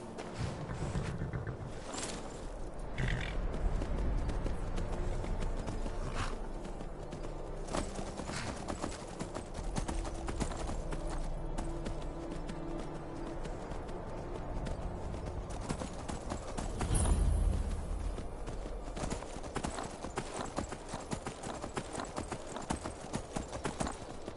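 Horse hooves clip-clopping steadily in The Elder Scrolls V: Skyrim, a continuous rhythmic gait with rustling game ambience and occasional louder thumps, fairly quiet overall.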